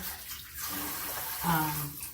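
Warm tap water runs steadily into a sink while canning jars are washed, a broad continuous wash with a brief louder surge midway, fairly close.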